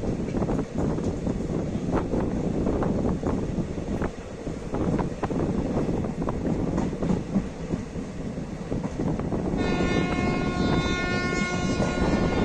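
The Hool Express passenger train running from Howrah to Siuri, a loud continuous rumble and rattle of wagons with rhythmic clatter, and a horn-like tone near the end.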